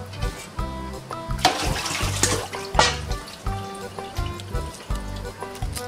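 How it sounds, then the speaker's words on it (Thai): Water pours into a pot to boil monk fruit (luo han guo), a rushing splash of a few seconds set against steady background music. "แล้วเดี๋ยวเราใส่น้ำกันนะคะเพื่อที่จะต้มนะ"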